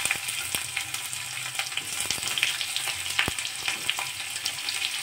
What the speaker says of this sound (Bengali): এগুলো ভালো করে ভেজে নেব লাল লাল করে।